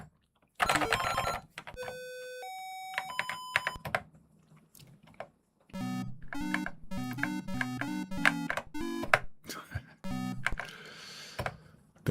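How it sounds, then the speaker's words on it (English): An 8-bit detective video game plays chiptune sounds: a few beeping tones, then a run of rapid, repeating electronic phone-ring bursts, close and clean with short gaps between them. "that's the phone"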